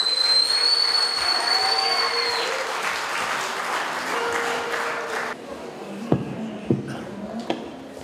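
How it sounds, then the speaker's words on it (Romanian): Audience applause after a Gagauz folk music and dance ensemble performs at a regional folk dance festival in Comrat, a loud crowd of clapping with a whistle early on, fading into scattered claps and thumps. "Aplauze!"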